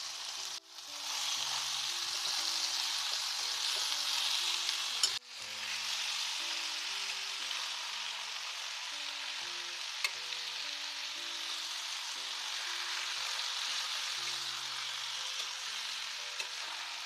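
Amaranth leaves fry in a pan for a cucumber and tomato curry. A steady, soft sizzle runs throughout, broken by a few sharp clinks of stirring.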